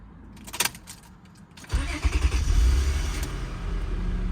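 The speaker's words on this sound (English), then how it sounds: "Then you're going to turn on your car." A 7th generation Honda Accord engine cranks and starts, preceded by faint clicks and key jingles, then settles into a loud, steady idle rumble close by.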